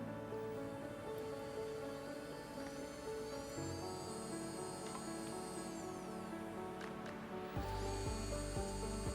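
A JD 7G 120W brushless micro-motor handpiece running at up to 40,000 rpm after its reverse switch is flipped gives a steady high-pitched whine with shifting tones and a brief change in pitch partway through.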